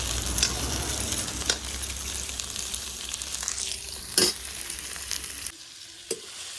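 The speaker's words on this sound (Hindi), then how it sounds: "अब मैं यहाँ बना इन्हें करी हूँ भाटा और आलू ला तलत हूँ" Brinjal and potato pieces frying in a pan in a home kitchen: a steady, dense sizzle with occasional scraping stirs and clinks, which drops away abruptly near the end, leaving a faint background and one last clink.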